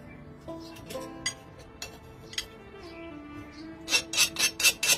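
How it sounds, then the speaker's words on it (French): A metal file scraped across a hardened knife blade, several short rasping strokes in quick succession near the end, preceded by faint ringing metallic tones and light clinks. "On s'attrape une lime pour voir si la trempe est bonne."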